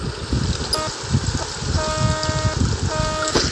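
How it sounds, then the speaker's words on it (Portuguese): A Marcopolo Viale city bus on route 411 in Fortaleza, in heavy rain and rush-hour traffic, sounds a deep ship-like horn: a short toot, then a longer steady blast and a third medium blast, loud over constant rumbling engine and traffic noise. "Essa buzina aqui desse nosso ônibus é doido, ó. Parece buzina de navio."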